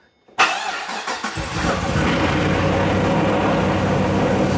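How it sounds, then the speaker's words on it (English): After a brief silence, a supercharged work van engine cranks with a few quick sputters, then catches and settles into a loud, steady idle heard up close. "Let's fire this thing up and check on these injectors."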